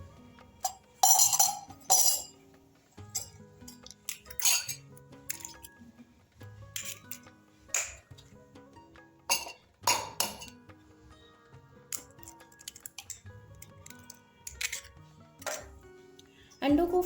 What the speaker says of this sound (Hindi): इन अंडों को हम एक गिलास में फोड़कर डाल देंगे।